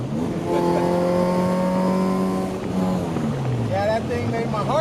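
An all-motor Honda Civic with an H23A engine revs high on a street pull, a loud steady drone building, then dropping at the shift, followed by quick rising sweeps and sharp crackling pops near the end.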